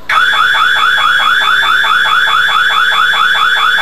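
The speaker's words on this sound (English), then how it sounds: "Other types of alarm systems protect points of entry like doors or windows." A burglar alarm sounds continuously at close range, a loud electronic siren that warbles rapidly and evenly under a steady high tone, holding at full level with no talk over it.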